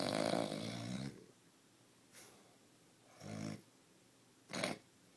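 Loud, harsh snoring from a sleeper: one long rattling snore at the start, then three shorter snorts spaced about a second apart, each separated by quiet breathing gaps.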